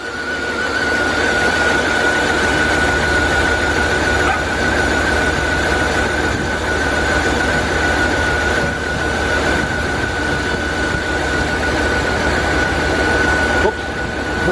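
A 2000 Dodge Ram Van B1500 with an idle control system fault running at idle, a steady engine drone with a constant high whine, close and unbroken.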